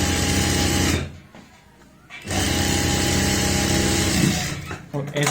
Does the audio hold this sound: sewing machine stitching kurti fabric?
yes